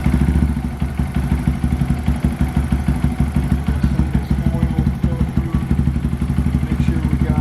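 Honda Grom fitted with a DHM 149cc big bore kit idles at very low rpm, a loud, steady, close thumping beat that runs without a break.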